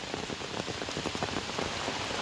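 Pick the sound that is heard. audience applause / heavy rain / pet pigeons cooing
heavy rain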